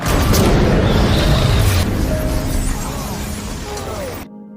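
Bomb blast in an action film scene, a loud, dense booming roar with shattering debris that sustains for several seconds before fading and cutting off abruptly.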